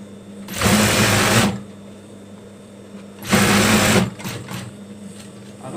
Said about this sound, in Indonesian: Kita akan jahit ke sini.